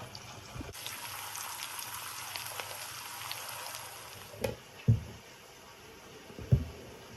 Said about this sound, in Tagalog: Prepare na natin yung onion habang nagpiprito tayo ng potato.